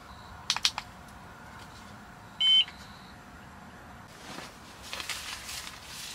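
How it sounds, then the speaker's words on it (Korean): A carbon monoxide alarm at an autumn campsite gives a short, loud electronic beep at mid-clip, with a few faint clicks before it and soft outdoor rustling and footsteps afterward. "이거 일산화탄소 경보기."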